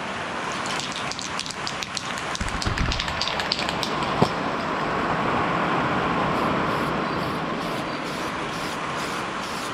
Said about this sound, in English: The rain's starting to come down heavy now.